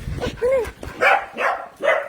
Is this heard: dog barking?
yes